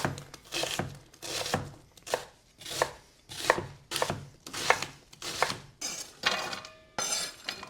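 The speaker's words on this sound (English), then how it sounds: "This is a stew, so we'll just be dicing it up nice and easy." A knife dices vegetables on a cutting board for a cioppino stew, producing a steady rhythm of close, crisp chops, about one stroke per half second, with no talking.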